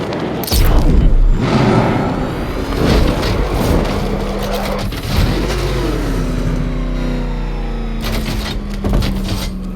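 The Batmobile engine in the video game Batman Arkham Knight roars loudly and revs up and down. Booming impacts and heavy rumble surround it.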